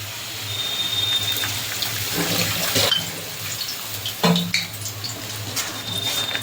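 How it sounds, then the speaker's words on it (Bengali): A little water poured into Kashmiri chilli masala frying in a pan for a katla fish curry: a steady splashing, running-water wash with a brief clatter of utensils midway, close and fairly loud without voices. "অল্প করে একটু জল দিয়ে দেবো"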